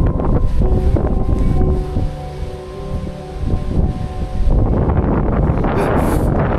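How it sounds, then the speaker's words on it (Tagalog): Strong mountain wind buffets the microphone with loud, steady roaring gusts throughout, briefly easing midway before rising again, with a faint tonal whine in the background. "Grabe lakas ng hangin ha ba?"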